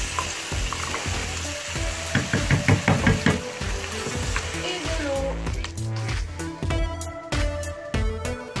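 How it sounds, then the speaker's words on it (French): Tomato sauce for a vegan spaghetti alla norma cooks in a pan, sizzling and bubbling close by while a spoon stirs with irregular knocks and scrapes against the pan. "Ensuite on ajoute notre tomate, on mélange encore une fois."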